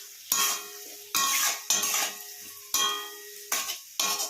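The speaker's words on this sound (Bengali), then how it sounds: "সামান্য পরিমাণ হলুদ, সামান্য লঙ্কার গুঁড়ো, ভালো করে মিশিয়ে নেব" Chicken being mixed with turmeric and chili powder in a bowl while cooking chilli chicken, heard as several distinct scraping, clinking strokes of a utensil against the dish, close and fairly loud, with short pauses between them.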